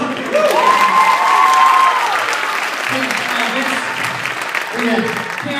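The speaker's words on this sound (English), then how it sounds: "Big round of applause for" Applause from an audience at a youth percussion group's Gold Award event in Bel Air, Maryland, a broad steady wash of clapping with some cheering, with voices and a brief whistle-like tone mixed in near the start.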